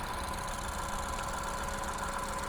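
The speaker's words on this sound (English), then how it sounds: "Very quiet and smooth running engine" A 2017 Ford Focus SE engine idles with the hood up, a steady, quiet and smooth low hum with a faint even mechanical whir, holding constant throughout with no speech.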